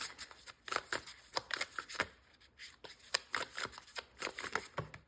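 Tarot cards are shuffled and handled close up in a quiet room, a quick run of crisp riffling flutters and snaps, one short pause midway, with no talking.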